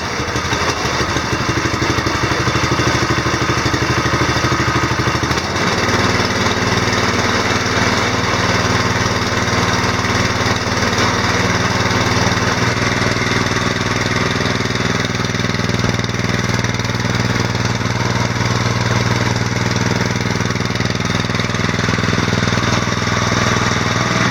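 A homemade side-by-side's engine runs steadily and loudly throughout, with a rough idle for the first few seconds before the throttle opens and the tone shifts into a higher, sustained drone.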